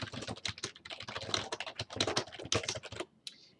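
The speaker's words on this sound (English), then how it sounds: "and then we type the name of our title." Typing on a computer keyboard, a quick close run of crisp key clicks in bursts with short pauses, ending in quiet.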